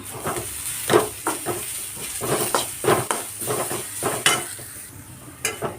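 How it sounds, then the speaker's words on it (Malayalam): Grated coconut, shallots, fennel and curry leaves frying in a pan, close hissing sizzle broken by repeated stirring scrapes in an uneven rhythm. "ഇതെല്ലാം നന്നായിട്ട് വറുത്തെടുക്കാം"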